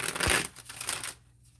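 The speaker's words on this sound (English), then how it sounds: "And so shuffle the deck" A deck of tarot cards is shuffled by hand in a brief papery riffle, with a soft clatter of cards, then a quick taper into near silence.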